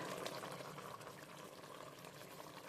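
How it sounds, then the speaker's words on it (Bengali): Fish curry gravy for katla kalia bubbling at a steady boil, a dense, continuous close simmering hiss and burble with no talk. "গ্রেভি সুন্দর করে ফুটে উঠেছে"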